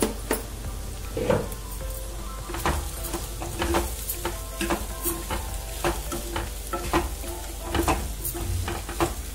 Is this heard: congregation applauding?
no